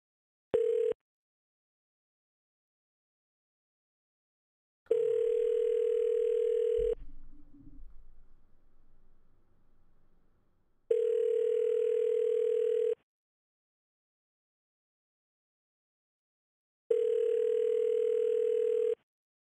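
A telephone ringing tone on an outgoing call sounds as a steady electronic tone, repeating four times in roughly two-second pulses with long silent gaps, and faint handling noise follows the second ring.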